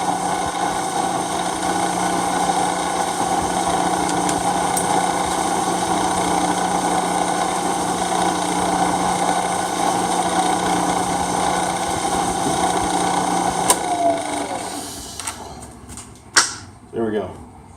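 Milling machine motor running in low range while machining an adapter plate, with a steady close hum and whine that winds down near the end, followed by a few clunks.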